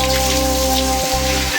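Cold water splashes and drums steadily during an outdoor bath, a loud, continuous, close-up rush of falling water with a brief dip in the middle.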